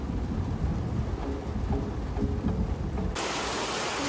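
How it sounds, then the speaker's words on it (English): Heavy rain pours down steadily in Saigon, Vietnam, with a deep rumble of thunder underneath, loud and continuous throughout. "It's really raining."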